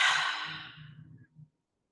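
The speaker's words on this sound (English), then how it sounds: "Breathing in and out." A single slow breath, a soft airy exhale that fades and ends in faint low murmurs. It is close and quiet with no speech.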